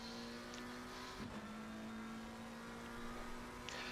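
A race car engine drones steadily at Brands Hatch in a racing video game, a faint sustained hum with a brief gear shift partway through.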